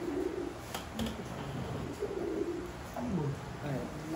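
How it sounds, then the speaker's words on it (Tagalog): Pigeons from Belgian breeders coo in low, soft, repeated calls, fairly close, over a light steady background noise. "Ano yan? Ibon."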